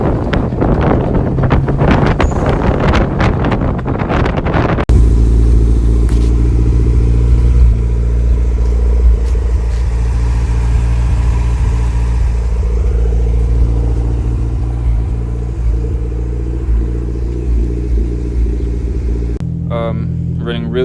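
A Toyota MR2 fitted with a Gen 3 engine swap drives up and down a street, its steady low engine rumble and road noise heavy with wind buffeting on the microphone, running continuously for most of the stretch.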